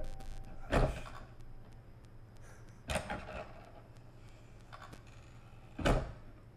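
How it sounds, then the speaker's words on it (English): A closet door swings shut with a few distinct knocks and thuds spaced a couple of seconds apart, fairly close in a quiet room with low background hum. "Can you close the closet door?"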